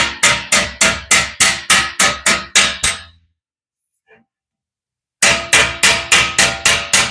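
Hammer blows on steel for a 1941 Ford two-ton truck body, a fast regular series of loud ringing strikes, a pause of near silence, then the rapid hammering resumes.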